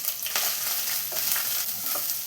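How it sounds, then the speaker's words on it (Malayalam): Grated coconut sizzles and crackles as it is stirred and fried in a pan over medium flame for a Kerala varutharacha erissery, a steady frying hiss with scraping stir strokes throughout. "ഒരു മീഡിയം ഫ്ലെയിമിൽ വെച്ചിട്ട് ഇളക്കി വറുത്തെടുത്താൽ മതിയാവും."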